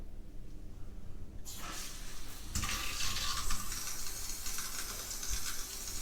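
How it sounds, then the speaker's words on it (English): Water runs from a cruise-ship cabin shower aboard the Costa Toscana, a steady broadband hiss that starts up and then grows stronger, continuing loud and unbroken to the end. "Question is, what's the water pressure like in the shower?"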